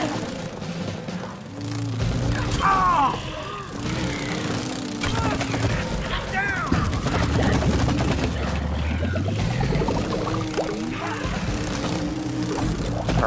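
Rapid gunfire from the It Takes Two video game as players shoot at wasps, a busy, continuous stream of shots mixed with game effects and excited voices talking over it.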